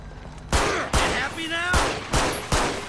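Video game gunfire in GTA 5 cracks out in about five sharp, loud shots at uneven intervals, with a faint tonal sound between them.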